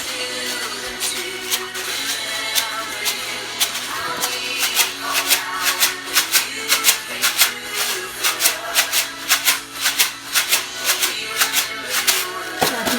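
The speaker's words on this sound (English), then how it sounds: "We're going to shake along to our Remember Your Love song." Tambourines shaken slowly along to a children's song at a preschool Sunday school, producing rhythmic jingling and rattling hits that grow steadier and busier over the singing and music.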